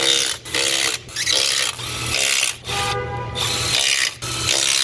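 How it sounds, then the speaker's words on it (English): A Milwaukee power tool runs down the intake bolts on a 6.7 Ford diesel engine, giving a loud, close, continuous mechanical ratcheting whir broken by several brief pauses between bursts. "just Milwaukee these boys right down"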